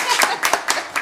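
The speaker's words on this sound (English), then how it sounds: "I feel like we should have an applause or something." Applause breaks out at a county commissioners meeting after a Constitution Week proclamation, a short spatter of hand claps in uneven bursts with some voices mixed in.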